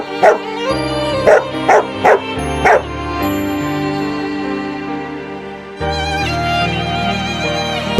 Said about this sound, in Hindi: अचानक एक भौंकने की आवाज आई।